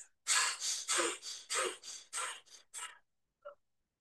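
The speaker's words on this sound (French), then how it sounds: "Expirez et inspirez longuement." Breathing through the nose during a guided morning breathing exercise: a quick series of about eight sharp, close breaths, then a pause and one short final puff.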